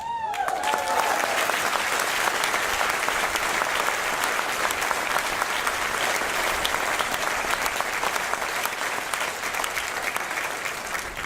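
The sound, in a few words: applause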